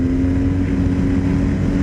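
Steady droning engine of a BMW R 1250 GS Adventure 2023 motorcycle under hard acceleration, a continuous close rumble with a strong low hum and wind noise.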